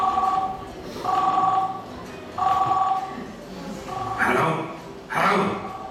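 An old-style telephone bell ringing in repeated double bursts with short gaps between them, clear and fairly close, with a couple of softer noisy bursts toward the end.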